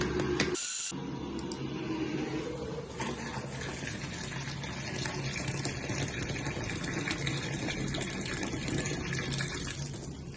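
Hot water pours steadily into a sink drain in a steady, continuous rush, loud and close, with a brief sharp knock near the start.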